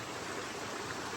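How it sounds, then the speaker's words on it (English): A quiet, steady rush of a stream at a water crossing on the Appalachian Trail, a soft even wash of flowing water heard from a short distance with no other sounds. "So I'm at this water crossing or refill point."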